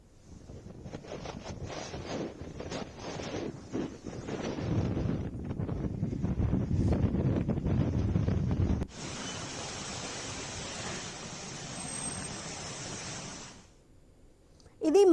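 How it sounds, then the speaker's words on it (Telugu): Cyclone Montha's gale-force winds gusting above 100 km/h on the coastal Andhra shoreline roar as loud, continuous broadband buffeting against the microphone, steady for most of the stretch, with a sudden shift to a brighter hiss partway through. "గంటకు 100 కిలోమీటర్లకు పైగా వేగంతో ఈదురు గాలులు వీస్తున్నాయి"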